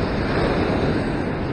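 Waves crashing and surging against a rocky shore at a sea-rock fishing spot, a loud, continuous broadband wash of surf with wind buffeting the microphone, no voices.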